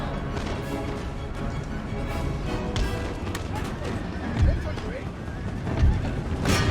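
Cavalry horses charging across a battlefield in Empire: Total War, with whinnies and drumming hooves inside a dense, continuous wash of battle noise, thuds and crashes, while someone talks over it throughout.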